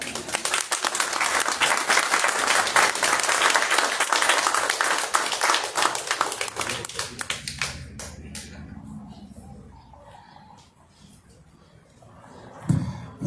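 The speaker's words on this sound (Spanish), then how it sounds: "El aplauso a Malva Belli, nieta de José Venturelli" Applause breaks out at the opening of a José Venturelli art exhibition, dense and loud for several seconds, then thinning into scattered claps and murmuring voices before a brief burst of talk near the end.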